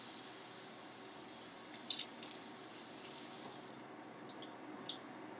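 Fresh blackberries are rinsed under a running kitchen tap, giving a steady close splash of water with a few brief squishes and drips, with no talking.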